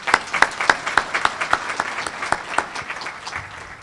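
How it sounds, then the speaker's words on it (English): An audience at a symposium on vision loss gives veterans a short round of applause. A few distinct, rhythmic claps stand out over a lighter crowd clapping that fades toward the end. "Can we give them a round of applause?"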